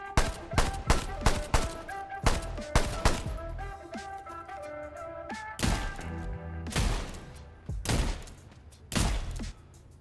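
Video game weapon fire, a rapid run of loud, sharp shots at the start followed by sparser single blasts and heavy thuds with ringing tails, close and prominent, with no talking.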